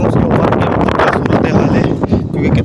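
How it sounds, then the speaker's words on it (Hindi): Strong stormy wind gusts across a microphone in Karachi, a loud, continuous broadband roar with buffeting surges throughout and no clear speech. "कितनी हवा चल रही है, कितनी हवा की आवाज़ आ रही है, तूफानी हवाएँ चल रही हैं"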